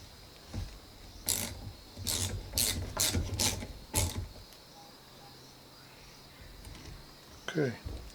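A ratchet tightening a bolt on a bow's limb pocket gives a quick burst of five or six sharp clicks close up, followed by quieter handling noises.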